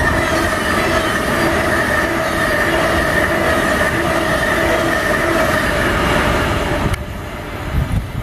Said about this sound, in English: Virgin Pendolino fast service there, it's going out.